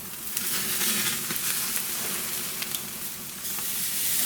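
A tomahawk rib eye steak sizzles on a hot grill, a steady, close, bright crackling hiss with scattered pops running throughout, no voices.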